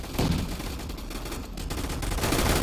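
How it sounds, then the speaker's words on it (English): Uzi fire in a video game rattles as a dense, continuous automatic burst that stays loud and steady the whole time, with no talk over it. "Oh, Uzi time!"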